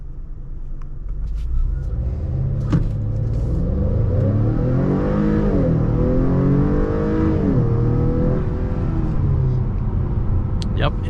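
A 2022 Acura TLX turbo engine revs during a brake-boost launch in sport mode with traction control off, holding a loud, close rumble that climbs and wavers in pitch through several rev swells.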